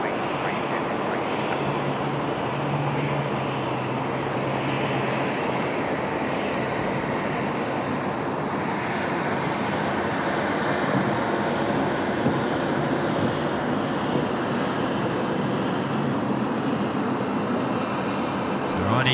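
AirAsia airliner rolls for takeoff on Sydney Airport's runway 34 left bound for Bangkok, a broad steady roar of jet engines building from a distance and holding loud throughout.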